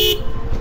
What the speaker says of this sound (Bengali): সিটি রাইডের জন্য এই হর্নটা অনেক বেশি লাউড হয়ে যায়, কিন্তু হাইওয়ের জন্য এই হর্নটা পারফেক্ট